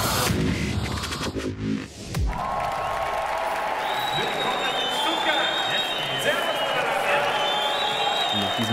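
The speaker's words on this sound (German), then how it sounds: "begrüßen Sie zuerst mit einem tosenden Applaus unsere Gastgeber" Thunderous applause from a live event audience welcoming the hosts: a dense, steady wash of many hands clapping that fills the room, with speech and music running over it.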